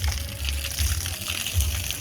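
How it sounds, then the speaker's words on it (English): Water from a garden hose streams against the side of a house in Mexico to wash dirt off, a steady close splashing gush with low surging pulses and no voices. "And sometimes I'll water the side of the house to get the dirt off."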